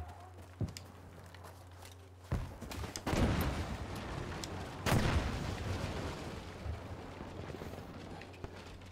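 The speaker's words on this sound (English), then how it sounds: "someone's shooting at me" Gunfire in Battlefield V: several sharp shots crack out, with heavy booming reports near three and five seconds, echoing over a low rumbling background, distant-to-mid range, no talk.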